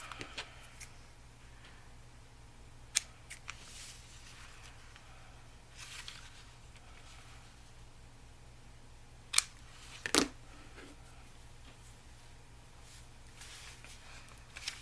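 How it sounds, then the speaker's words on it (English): Scissors snip a few times, trimming paper pieces off a handmade paper bag journal. The sharp cuts come sparsely over a faint, steady background hum. "I'm just going to trim off these pieces here"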